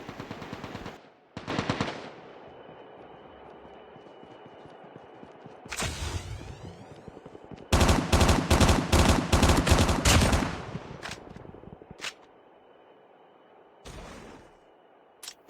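Gunfire in Call of Duty Mobile battle royale: a few scattered shots early, then a loud sustained rapid-fire burst of automatic weapon fire with tightly spaced reports, followed by several isolated single shots, with no talking.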